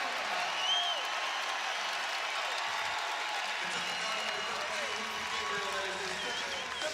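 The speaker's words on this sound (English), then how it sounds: "Sellout crowd trying to help their Aggies to a big-time win in College Station." A sellout basketball crowd cheering for the Aggies at a Texas A&M vs Kentucky game in College Station, a steady, distant roar of voices and applause running throughout under a commentator's talk.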